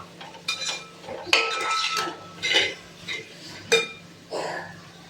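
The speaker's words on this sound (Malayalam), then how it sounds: "ഇതിലേക്ക് നമുക്ക് കൂണിനെ ഇട്ട് കൊടുക്കാം." Mushrooms tipped into a pan of sautéed onion, tomato and spice powders for a mushroom mappas curry, giving a few clattering metal clinks and scrapes of utensil against pan, close and fairly sharp, with no talk.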